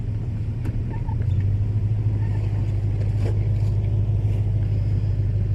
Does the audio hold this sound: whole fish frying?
no